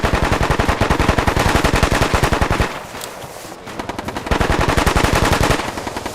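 Sustained M240 machine gun fire in a tactical shooter game, long loud bursts of evenly spaced rapid shots with a brief slower pause in the middle before the stream resumes, close and dominant.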